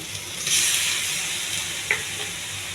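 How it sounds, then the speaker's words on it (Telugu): Raw prawns stir-fry in a pan with oil, salt and spices, a close, steady sizzle with a brief clack of a spoon or pan, no talking. "పచ్చిరొయ్యల్లో వాటర్ పూర్తిగా ఎగిరిపోయేంత వరకు ఎగిరించాలండి"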